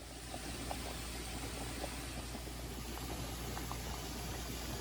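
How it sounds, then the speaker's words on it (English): Water bubbles softly in a pot holding farm fresh eggs, a faint steady rolling simmer with scattered small pops and no voices. "it was boiling and now it goes down and it'll start to boil again"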